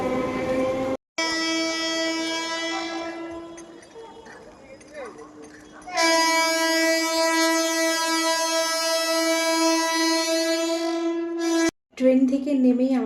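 A train at a station on a rainy day sounds its horn in long, loud, sustained blasts: one held for several seconds, then a stronger second blast that cuts off near the end.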